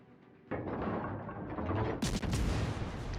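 Naval guns firing at a T-22 destroyer in a warship video game, a sudden loud roar of gunfire that swells into a heavier, louder salvo partway through.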